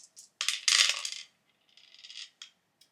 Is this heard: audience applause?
no